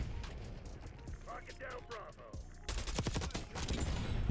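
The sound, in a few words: suppressed AK74 gunfire in Black Ops 6 video game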